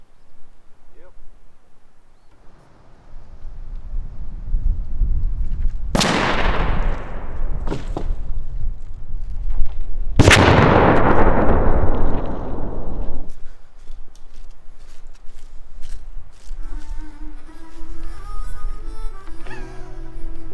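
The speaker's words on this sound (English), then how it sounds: "it is in fact the gun that was shooting right with those TSS and Magnum loads" Two loud shotgun blasts from a turkey gun firing TSS and Magnum loads while patterning, each a sharp crack with a long decaying tail, about four seconds apart, over outdoor background noise and faint talk.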